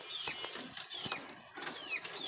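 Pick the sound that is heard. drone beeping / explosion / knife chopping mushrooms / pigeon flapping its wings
pigeon flapping its wings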